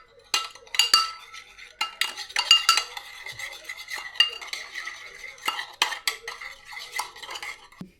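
Spoon stirring and mixing a soy sauce mixture in a bowl, with rapid irregular clinks and scrapes against the dish, close up and steady for several seconds.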